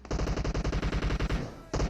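Automatic rifle fire in the mobile battle royale game PUBG Mobile comes as one loud, rapid, evenly spaced burst. It stops briefly near the end, then another shot or burst starts.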